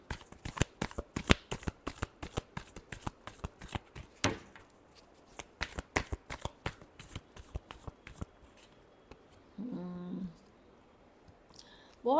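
Tarot cards are shuffled in quick, crisp riffling bursts, a dense run of close, soft clicks that stops near the end, followed by a brief tone.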